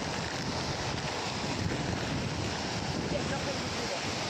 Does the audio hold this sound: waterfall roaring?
yes